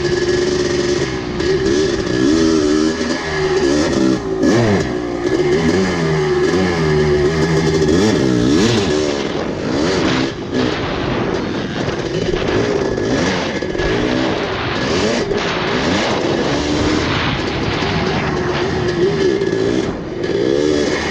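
A KX500 motocross motorcycle racing on a track, heard on board as a loud, continuous two-stroke engine note that revs up and down steadily, with rattling and wind noise throughout.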